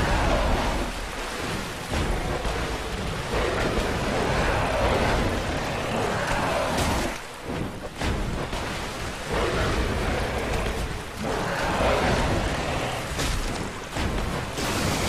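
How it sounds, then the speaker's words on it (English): Thunder crashes with steady rain-like rumble in the Dark Souls video game, a broad continuous roar with brief dips and a lightning strike near the end, loud and close. "Lightning. Water conducts electricity."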